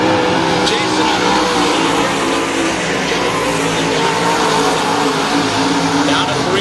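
Race cars roar around a dirt oval track at Salina, engines loud and continuous with revving swells as they run down the straightaway, a race announcer talking over the din.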